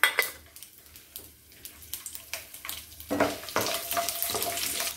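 Whole garlic cloves and small sambar onions frying in sesame oil, with a soft sizzle among clinks and scrapes of a utensil against the pan, the frying growing louder and steadier in the second half.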